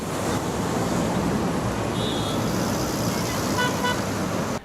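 Road traffic at a traffic light, with a steady rushing hum of passing cars and engines and a couple of brief horn toots partway through, continuous and moderately loud until an abrupt cut at the end.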